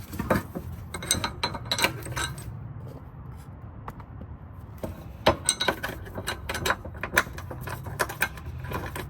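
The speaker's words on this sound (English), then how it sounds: "now I'm gonna bolt the bracket bolts back on right here" A ratchet tightens transmission bracket bolts under a Cadillac CTS-V, giving bursts of quick metallic clicks with a quieter pause between them, close by.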